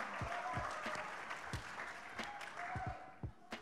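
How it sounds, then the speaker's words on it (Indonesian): Audience applause at a church conference during a retro music session, a broad wash of clapping with sharp thumps and knocks scattered through it, fairly close and steady, with no talk over it. "Tepuk tangan dulu dong menyemangati."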